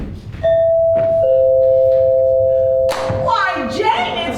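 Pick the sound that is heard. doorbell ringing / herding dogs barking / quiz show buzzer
doorbell ringing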